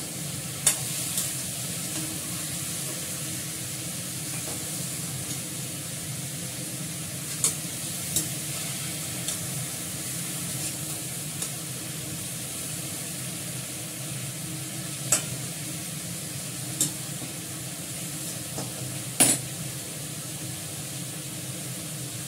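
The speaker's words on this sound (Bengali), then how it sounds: "একটু নাড়াচাড়া করে জল দিয়ে দেবো।" Shukto, a Bengali bitter gourd curry, being stirred in a pan: a continuous low sizzle and bubbling hiss with occasional sharp scrapes and clicks of a utensil against the pan, steady and close, with no talking.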